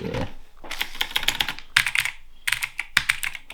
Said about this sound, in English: these keyboards with the stabilized keys is that whilst they work, they sound very rattly